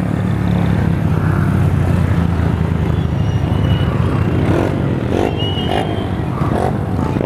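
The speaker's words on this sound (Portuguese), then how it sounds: "Isso era motoca, mano." A motorcycle engine roars loudly nearby, then fades somewhat, with clattering and scraping sounds mixed in toward the end.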